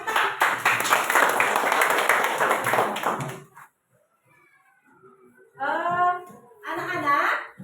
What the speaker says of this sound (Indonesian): Iya, tepuk tangan